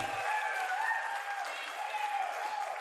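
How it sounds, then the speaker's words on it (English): Audience applause at a Square Enix E3 2019 presentation, a steady dense wash of clapping from a large crowd that holds for about three seconds. "Wait for the applause."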